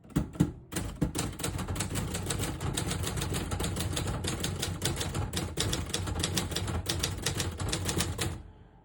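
Rapid typing on a 1971 Adler J5 vintage portable typewriter, close crisp key strikes in a fast continuous rhythm after a few slower opening taps, loud and alone before stopping at the end.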